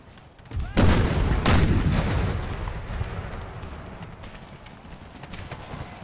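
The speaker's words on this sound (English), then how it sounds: "Howitzers, get ready to fire." Howitzer artillery fires in Empire: Total War with the Brothers vs. Brothers Civil War mod: two heavy booming blasts in quick succession, each followed by a long rolling rumble that slowly fades.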